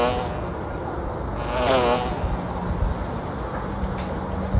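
A dense buzz from a honey bee swarm in southern Utah hums steadily throughout, with a low droning background and a brief swell in the middle; no voices.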